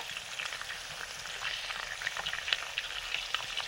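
Dry chillies, bay leaves and panch phoron frying in hot mustard oil: a steady, dense crackling sizzle with quick pops throughout, close and fairly loud, with no talk.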